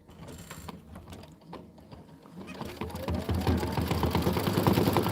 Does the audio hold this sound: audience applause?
no